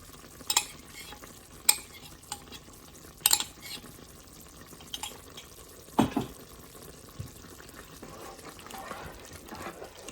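Spoon stirring a cornstarch slurry into a bubbling chicken pot sticker stir-fry sauce in a pan, with soft intermittent scrapes and clinks over a low, steady simmer.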